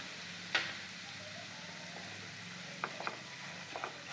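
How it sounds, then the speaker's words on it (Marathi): Semolina (rava) dry-roasting in a pan with cloves over a low gas flame, a quiet soft sizzle with a few light scraping stirs and small ticks from the spoon against the pan. "आणि बारीक गॅसवर हा रवा आपण 1 मिनिटभर छान भाजून घेऊया"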